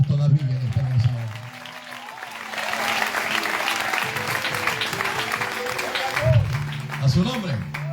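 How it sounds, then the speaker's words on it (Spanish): Applause fills a church congregation during a Spanish-language sermon, a sustained wash of clapping rising after a spoken invitation and lasting several seconds, with the preacher's voice heard before and after it. "Aquí hay gente que va a tener que dar un aplauso"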